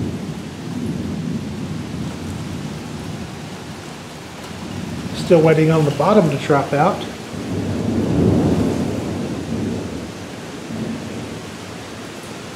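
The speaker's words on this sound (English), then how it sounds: "Still getting a little rain, getting some wind, getting some lightning and thunder." Thunderstorm over a garden in late summer, with low rolling thunder rumbling through steady rain and gusting wind; someone speaks briefly partway through.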